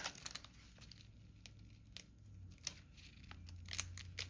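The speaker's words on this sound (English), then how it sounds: "I'm going to cut these very gently." Scissors snip gently at a plastic Mini Brands Disney Snacks toy package, a handful of faint, crisp cuts with light crinkling between them, close and quiet with no talking.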